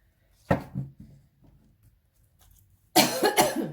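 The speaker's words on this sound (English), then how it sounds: "Sorry about all the coughing and spluttering and whatever." Two bursts of harsh coughing close by, separated by a quiet pause with faint breathing.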